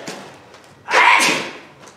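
A single sharp sneeze in a workshop, a loud breathy burst at mid-clip that tails off quickly, preceded by faint quiet background noise.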